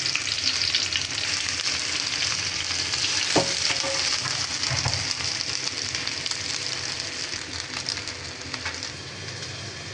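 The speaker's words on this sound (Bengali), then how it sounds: "মাছ ভাজা শেষ হয়ে এলো" Hilsa fish frying in mustard oil in a home kitchen pan, a dense continuous sizzle and crackle that stays loud and close throughout, with one brief clink partway and no talking.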